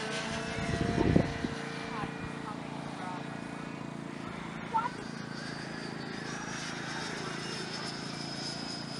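An E-flite 90mm Viper electric ducted-fan model jet whines steadily as it climbs vertically, a sustained airy turbine tone under a man's nearby speech, with a louder burst near the start.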